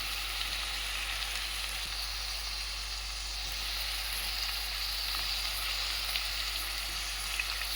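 Drumsticks frying in hot oil for a drumstick curry, an even, close crackling sizzle that stays constant throughout with a low steady hum beneath and no voices.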